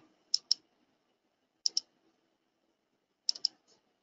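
Mouse buttons click in quick double taps during CAD drafting work, three crisp, close pairs separated by quiet pauses, the last pair followed by a faint extra click.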